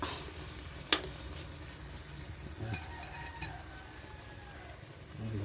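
Pork adobo with bay leaves being stirred in a pan: faint steady sizzle with a sharp utensil clack against the pan and a few soft scrapes, quiet and close.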